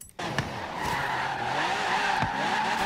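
Tires squeal steadily through a drift in Forza Horizon 3. A race car's engine drones close and loud under the skid, with no talk.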